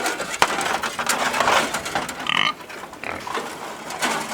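Pigs grunting and squealing near a livestock trailer, close and fairly loud, with scattered wooden knocks and scraping between the calls and no talking.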